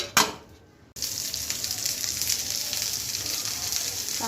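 Onion and coconut stuffing for masvadi roasts in a pan, a steady close sizzle and crackle running on after a short quiet start, with no talk over it.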